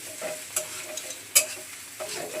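Snake gourd frying with fish roe in a pan while being stirred: a steady soft sizzle broken by sharp scrapes and clicks of the spatula, one especially loud knock near the middle.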